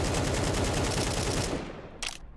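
An AK rifle fires a dense, rapid automatic burst in Counter-Strike 2, loud and close for about a second and a half, then stops, with a short sharp click or shot near the end.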